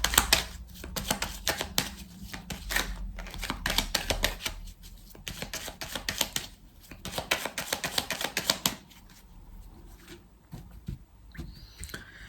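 A deck of tarot cards is shuffled by hand up close, giving repeated riffling and slapping bursts in quick rhythm for most of the stretch before settling into quieter handling.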